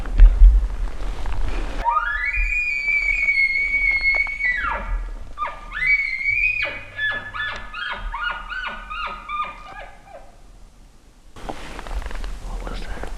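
A bull elk's high, drawn-out bugle rises into a long sustained whistle, then breaks into a series of grunting chuckles, carrying from some distance outdoors with low wind noise.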